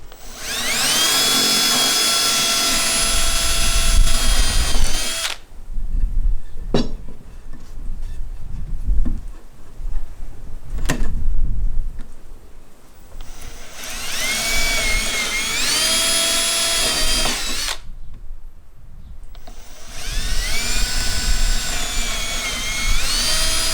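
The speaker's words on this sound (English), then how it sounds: "I want to put 2 pilot holes with a 3/16 bit at an angle." A power drill with a 3/16 bit bores angled pilot holes into wood while building a butcher block table top. Two loud, close whining bursts are separated by quieter pauses with light handling knocks.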